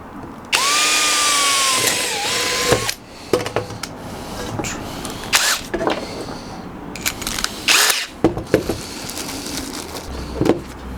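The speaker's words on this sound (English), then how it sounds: "Drilled a hole." A power drill bores a hole in a metal bin with a loud whining run of about two seconds, followed by clanks, rattles and handling knocks of the metal.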